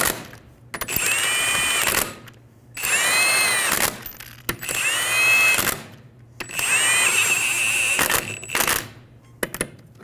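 Impact wrench snugging down rear wheel lug nuts on a 2007-2011 Toyota Camry, four loud close bursts of whirring and rattling, each lasting a second or two, separated by short quiet pauses.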